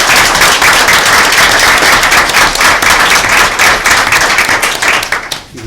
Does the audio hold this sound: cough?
no